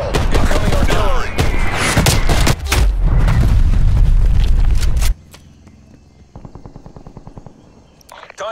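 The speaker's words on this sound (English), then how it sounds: "Artillery targeting detected. Net call. Incoming artillery." Artillery strike explosions in Call of Duty Black Ops Cold War: a loud, dense barrage of booms and crackling blasts that cuts off abruptly, followed by quieter rhythmic mechanical thumping and gunfire.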